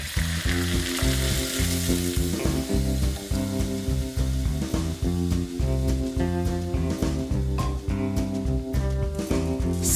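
Water poured into a hot pan for a simple dishwater soup gives a loud, steady sizzle and hiss, with strong rhythmic music running underneath throughout.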